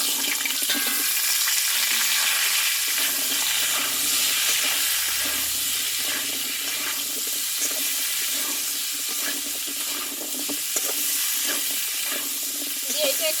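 Chopped radish and pumpkin hitting hot oil with cumin and dried chillies in a vegetarian pumpkin dish, a loud continuous crackling sizzle that stays steady and close for the whole stretch.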